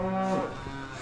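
A single short moo from a cow in a full barn on a cold day, fairly close and lasting under half a second, with dull barn ambience around it.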